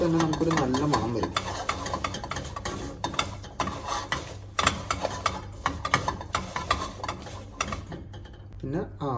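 Spice powders are stirred into the base of a mango fish curry with coconut milk, a run of close, rhythmic scraping and clinking strokes in the pan over a soft sizzle, ending abruptly.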